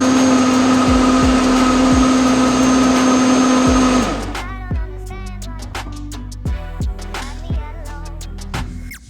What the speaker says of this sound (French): maintenant je vais le mixer, on se retrouve dans 30 secondes, le temps que je mixe le tout.